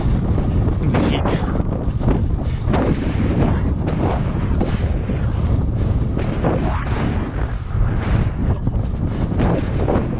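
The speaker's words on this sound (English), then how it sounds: "It's a little breezy today, but it feels good" Steady wind buffeting the microphone on a breezy, hot day during an outdoor run, a continuous loud rumbling roar with gusty surges throughout.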